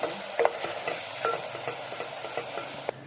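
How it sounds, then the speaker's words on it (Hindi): Two tablespoons of ginger garlic paste fry in a pan with a soft steady sizzle, broken by light scraping stirs and a few clicks of a spoon, close and moderately quiet, no talking. "अदरक लहसुन के पेस्ट को मैंने फ्राई कर लिया"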